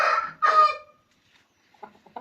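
A rooster offered for sale lets out a loud, close crow in two strong bursts, then falls silent before a few short, quieter clucks.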